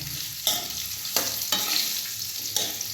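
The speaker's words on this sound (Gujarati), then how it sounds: "એવા આપણે આ ઘીમાં છે ને આવી રીતે અહીં શેકવાનું." Date mixture roasting in ghee for khajur pak, stirred in a pan with a steady sizzle and sharp scraping strokes at irregular intervals, close and alone.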